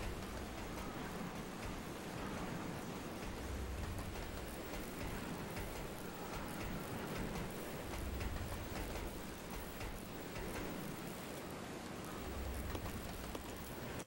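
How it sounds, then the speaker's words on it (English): Steady rain in the video game Resident Evil Zero patters continuously with a soft, dense hiss and a low rumble underneath, fairly quiet and unbroken throughout. "It's raining."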